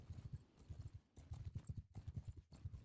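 Horses gallop in the medieval combat game Mount & Blade II: Bannerlord, a rapid, rhythmic drumming of hooves in repeated bursts with short breaks, fairly quiet and without talk.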